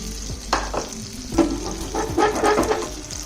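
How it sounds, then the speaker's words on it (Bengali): Egg and potato omelette mixture sizzles and crackles in an oiled pan over a very low flame, with steady frying hiss and a few scraping, stirring knocks close by. "এবার ডিমের আলুর মিশ্রণটা আমি দিয়ে দিচ্ছি এখানে।"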